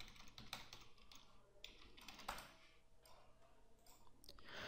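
Soft, quiet typing on a computer keyboard, a loose run of clicks and taps over faint room noise, with no voice.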